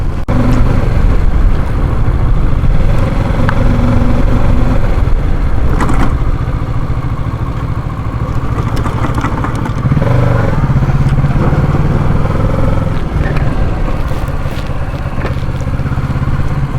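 A Kawasaki Ninja 650 motorcycle ridden on a road toward a temple, its engine droning steadily and loudly close to the rider throughout, with wind rush and occasional rattles layered over the constant rumble.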